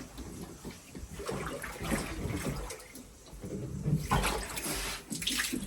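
Water runs steadily and fairly loudly while a water tank is cleaned, a continuous gushing splash with shifting intensity throughout and no voices.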